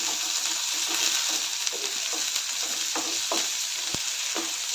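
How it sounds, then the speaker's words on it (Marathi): Onions fry in a pan for kanda poha with a steady close sizzle and a few soft stirring scrapes and taps, no talk over it. "सर्व व्यवस्थित मिक्स करून चांगलं भाजून घ्यायचं आहे ट्रान्सपरंट होईपर्यंत भाजून घ्यायचं आहे"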